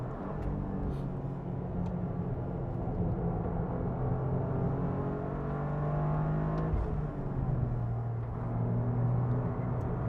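A Toyota GR Corolla lapping a race track, heard from inside as a steady engine drone with rising and falling revs and a brief shift partway through, continuous and fairly loud with no talking.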